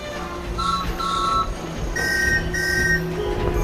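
A steam engine whistle sounds in two pairs of short, clear tooted notes, the second pair higher and stronger, over a steady low background rumble.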